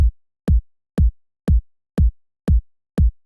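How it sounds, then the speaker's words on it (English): A custom-made kick drum sample for a music mix, seven punchy low thumps struck alone at an even, steady tempo, each with a sharp attack and a short booming decay. "So I actually went and made a kick."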